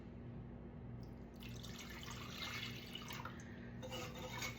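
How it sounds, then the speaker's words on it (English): A cup of water poured into a strawberry pie filling mix with cornstarch, a soft, steady trickle and splash close by that runs for several seconds over a low background hum. "then we're gonna add our 1 cup of water and give that a good mix up."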